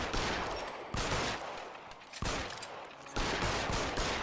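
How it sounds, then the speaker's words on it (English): Gunfire in the LA Noire video game: several sharp, loud shot bursts arriving in an uneven sequence about a second apart, each followed by a brief ringing tail, with no talk over them. "Let's get a headshot."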